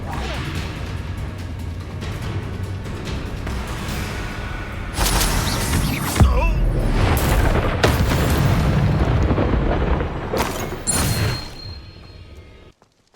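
Confringo blasting-spell explosions in Hogwarts Legacy, heavy booms and crashing bursts over continuous battle noise, with a sharp impact in the middle and a voice shouting amid the fighting.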